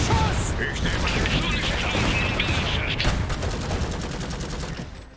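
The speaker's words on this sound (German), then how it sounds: "Schuss!" Rapid bursts of automatic gunfire and shots from the diesel-punk real-time strategy game Iron Harvest crackle in a dense, loud fusillade that fades slightly toward the end, with faint in-game voices beneath.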